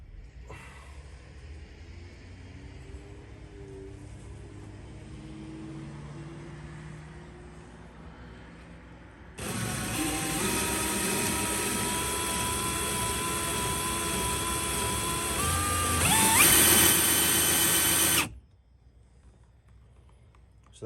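Tool guy HT-1715 fluid transfer pump running with a loud, steady motor whine for about nine seconds, rising slightly near the end before cutting off abruptly.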